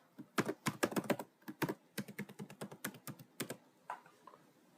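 Computer keys clatter in quick bursts of close typing, a run of crisp taps with short pauses between groups, quiet overall and with no voice.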